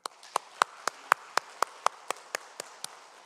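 A church congregation claps together in steady unison, about a dozen crisp, evenly spaced claps at a brisk beat, moderately close, with no talking over them.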